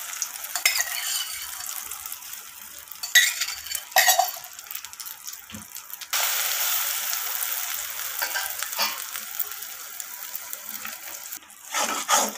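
Beaten egg poured into hot oil left from frying pointed gourd, sizzling loudly in a pan as an omelette, with bursts of spatula scraping and stirring against the pan.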